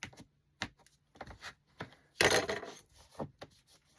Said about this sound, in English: Use your bone folder